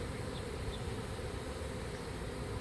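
A swarm of honeybees up in a tree makes a dense, continuous buzzing hum, quiet and even throughout with no voices.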